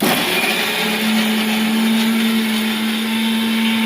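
A mixer grinder grinding coconut and onion whirs loudly and steadily at close range, a constant high motor whine with a grinding rumble, and no voices.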